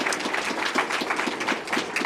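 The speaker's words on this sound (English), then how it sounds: "So round of applause for our presenters." Audience applause for presenters after a talk on tidal wetland restoration, with moderate clapping from a modest crowd over a couple of seconds and distinct claps audible within the wash.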